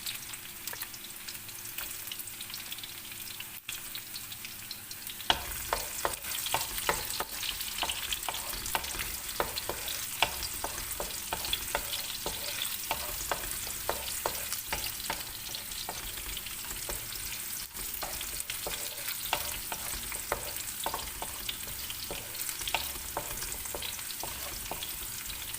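Garlic fries over a strong flame in a pan for Filipino chicken adobo, giving a steady, close sizzle dense with crackles and pops that carries on throughout without any talking.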